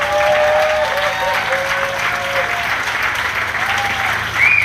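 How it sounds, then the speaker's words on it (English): Steady applause from a crowd at a surfing walk of fame ceremony fills the whole stretch, dense clapping at an even loudness with a slight swell near the end. "they deserve a round of applause"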